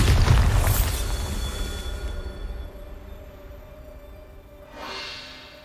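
A Bombarda blasting spell in Hogwarts Legacy detonates with a loud, deep boom that rolls off slowly, followed near the end by a second, softer burst.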